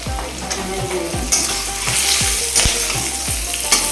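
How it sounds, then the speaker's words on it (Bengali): Bata fish frying in hot oil with chillies for a Bengali fish curry with helencha greens, a loud continuous sizzle and crackle close up, with regular clunks of a spatula turning the pieces. "লঙ্কাটা একটু ভালো ভালো হয়ে গেলে এখন দেবো বাটা মাছ"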